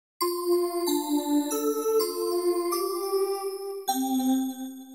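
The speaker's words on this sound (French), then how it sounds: "On a aussi évidemment les bells, tout ce qui est bells, cloches" A series of bright FM-synthesizer bell tones, each struck note ringing with metallic overtones, changing pitch roughly every second in a clean, close sequence.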